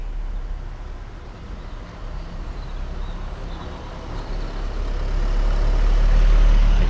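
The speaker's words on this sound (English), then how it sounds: "A car drive by really slowly." A car rolls by slowly, a low steady engine rumble that swells gradually louder as it draws near, with no voices over it.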